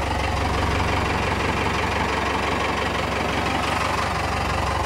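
A Cummins diesel engine in a Bull Nose Ford idles in cold weather with a steady, loud rumble and a rhythmic knocking clatter, close and unbroken throughout.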